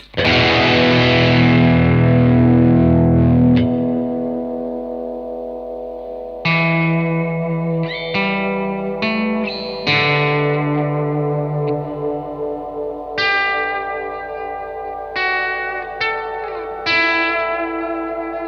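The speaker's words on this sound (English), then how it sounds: "If you've got the reverb on and you hold the button down, watch what happens. It creates a really cool synth pad-like effect." Electric guitar chords through a Blackstar AMPED 1 amp pedal's held reverb freeze ring through heavy reverb, sustaining into lush, pad-like swells that hang and decay between strums, with no talking.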